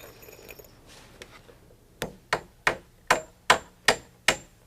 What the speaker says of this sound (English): Then positions and nails the middle stringer.